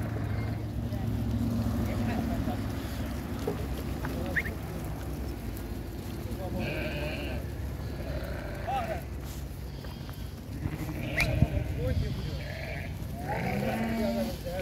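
A large flock of Qardolaq sheep, about 578 head offered for sale, bleats repeatedly from near and far over steady outdoor background noise, while people talk and a man imitates the bleating.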